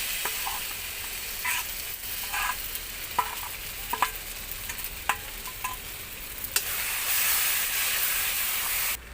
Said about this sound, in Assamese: পিঁয়াজৰ পৰা এটা ধুনীয়া কালাৰ হ'ব, তেতিয়ালৈকে মই এইখিনি এনেকৈ লৰাই থাকিম